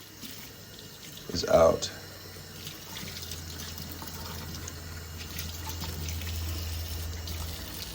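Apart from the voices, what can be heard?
rinsing Ninja NeverClog juicer part under running tap water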